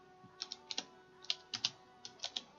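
Quiet keystrokes on a computer keyboard while writing Java code, clicking in quick irregular clusters of two or three taps with short pauses, close and soft over a faint hum, with no speech.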